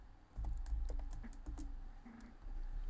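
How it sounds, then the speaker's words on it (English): Soft, quick clicking of keys on a computer keyboard while typing a header, a light irregular patter of keystrokes close by with no talking. "only I'm going to type what we do as the header"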